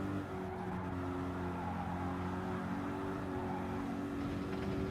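Porsche race car engine in the Gran Turismo 7 video game at Sardegna Road Track B, a steady loud droning whine holding a high pitch throughout without a break.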